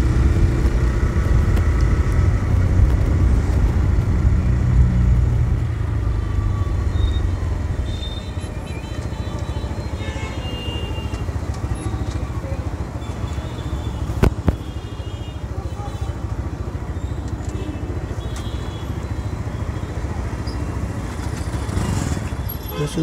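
A TVS Raider motorcycle rides along a road, its engine a steady close drone with wind rush, louder at the start and easing slightly, plus a brief sharp knock midway.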